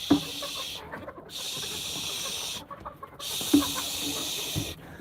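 Chickens clucking and squawking as they are herded into their coop on a winter day, faint bird calls spread through the clip over a steady hiss of wind or background noise.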